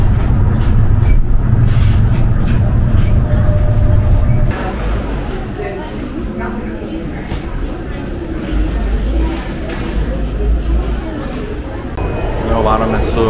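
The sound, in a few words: riding the Tokyo green line metro train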